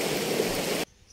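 A river flowing beside a campsite gives a steady, loud rush of water close by, then cuts off abruptly into near silence.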